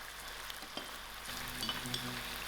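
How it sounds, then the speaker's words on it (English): Chilies hitting a hot pan of sauce-coated vegetables for chilli paneer, a close crackling sizzle of frying with a brief stir near the start, intensifying after a second. "Now that the sauces are coated well into my veggies, I'm just going to add in my chilies"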